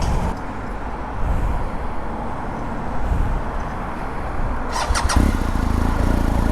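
Engine of a new 2019 BMW R1250GS motorcycle: a steady low engine rumble runs throughout, rising toward the end with a brief squeal and a slight revving swell.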